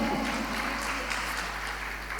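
An audience at a Jain religious discourse in Delhi claps together in a steady, dense wash of applause that holds at an even level throughout, with no talking over it.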